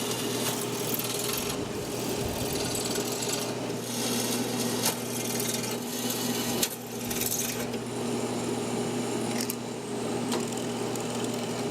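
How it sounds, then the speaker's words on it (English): A drill press with a depth stop drills holes in a metal chassis for a tube bass preamp, a steady whirring motor hum with intermittent grinding and clicking bursts, close and continuous with no talk. "I will set a depth stop on the drill press so I can't go too far down."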